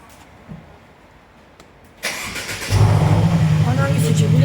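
A car engine starts with a sharp burst, then revs into a loud, throaty exhaust roar that keeps rumbling steadily.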